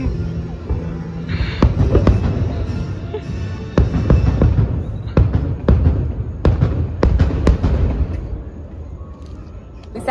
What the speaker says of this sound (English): We sat down at Gasparilla's after the surprise outdoor fireworks viewing.